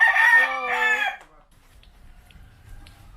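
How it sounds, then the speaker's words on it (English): A rooster crows loudly and close by in a single drawn-out call, then the barnyard falls quiet with only faint low rustling. "and more chickens inside."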